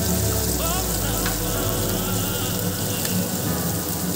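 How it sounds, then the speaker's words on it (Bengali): Ground spices such as coriander and cumin sizzle steadily and loudly in a hot pan while moong dal with papaya is cooked, a constant frying hiss with no talk. "এই মশলাটা আমি কষাবো।"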